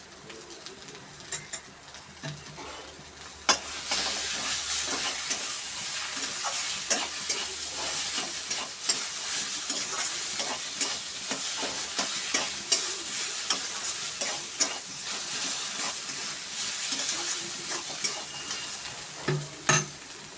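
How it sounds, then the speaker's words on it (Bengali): A soybean chop mixture is stirred in a pan over a steady sizzle, with a spoon scraping and tapping repeatedly, close and alone without talk. "এটা একটু নেড়ে নিয়ে তারপরে আমি আলুটা দিয়ে দেবো।"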